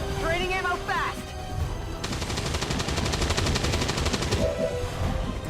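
Rapid bursts of gunfire in the turn-based strategy game XCOM rattle out as a dense, fast stream of shots for a few seconds, mixed with game effects and tonal beeps, fairly loud throughout.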